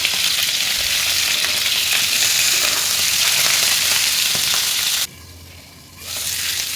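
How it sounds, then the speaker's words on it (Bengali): Cauliflower pieces sizzle steadily in hot oil. The frying is loud and continuous, then drops to a quieter hiss for about a second near the end before rising again. "ফুলকপিগুলো ভালো করে ভেজে নেব।"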